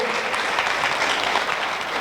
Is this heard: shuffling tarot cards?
no